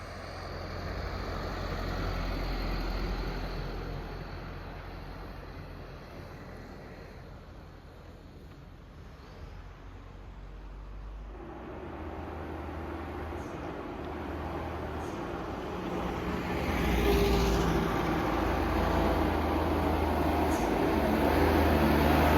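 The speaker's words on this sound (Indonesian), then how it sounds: "Terlihat truk dump center tanpa muatan melewati tanjakan daerah Gampong Betung" An unloaded Mitsubishi Canter dump truck strains up a steep mountain grade near Gampong Betung, its engine droning and laboring continuously, fading slightly then swelling louder as it climbs.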